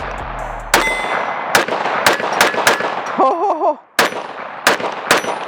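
A Kel-Tec PR57 pistol fitted with an Antimatter Industries wing fires about eight sharp, loud shots at uneven intervals outdoors, each with a ringing metallic clang. A voice briefly exclaims between shots.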